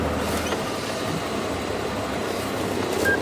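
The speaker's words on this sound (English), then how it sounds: "So wonderful to hear the starting engines, isn't it?" Safari vehicle engines on a sunset game drive at Djuma in Africa give off a steady, fairly loud low rumble that drones on evenly, with no voices.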